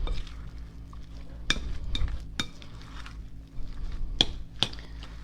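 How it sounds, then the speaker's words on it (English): Crab cake mixture being stirred in a bowl, soft wet mixing under sharp clinks and taps of a utensil against the bowl, heard close and fairly quiet. "So I'm going to mix this up."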